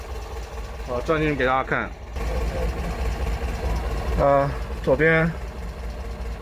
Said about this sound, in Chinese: 发动机在中间气冷，再挺起来挺顺的。